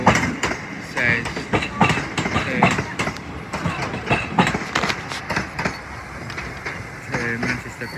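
A train passes through Crewe station on the West Coast Main Line, wheels clattering in a rhythmic clickety-clack over rail joints, close and moderately loud, with a voice talking at times.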